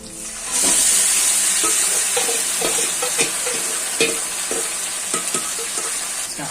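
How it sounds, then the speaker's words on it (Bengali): Spice-coated chicken pieces sizzle loudly in a pan over onions fried until red, a steady bright hiss broken by scraping stirs and clinks of a utensil, with no talking. "আমি এখন এই মশলা মাখা মাংসটা ঢেলে দিচ্ছি"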